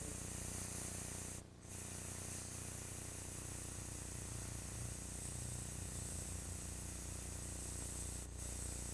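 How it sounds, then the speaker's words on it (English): An airbrush sprays paint in a continuous close hiss that fills the whole stretch, with two brief dips where the spray pauses. "Let's go ahead and grab this, spray it on."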